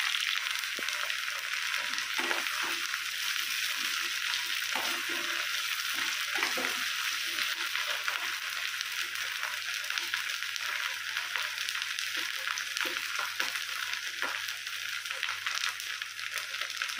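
Green chilies sizzle steadily in a hot oiled pan for coriander tomato chutney, a continuous bright frying hiss with occasional stirring scrapes and soft pops, close and even throughout.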